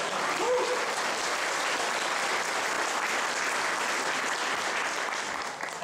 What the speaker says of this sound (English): I think he deserves another round of applause already.